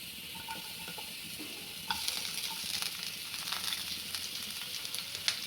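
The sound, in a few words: onion frying in a pan for bazar amti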